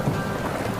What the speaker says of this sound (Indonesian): gumpalan awan hitam tersebut berubah menjadi hujan badai dan angin topan